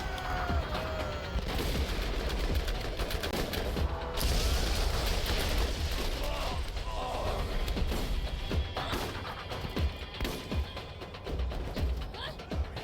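Pistol gunfire in the Borderlands video game: sharp shots land amid a dense, constant wash of game noise, thuds and clatter, with a voice talking throughout.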